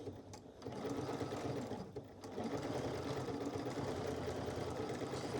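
A sewing machine runs a zigzag stitch along a seam in knit fabric for a Wayland dress, a quiet, steady mechanical whir that pauses briefly once and then continues without talk.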